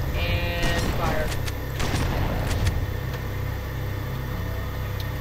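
Video game weapons in Halo 4 fire in rapid bursts of shots over a constant rumbling engine-like drone, dense and loud throughout.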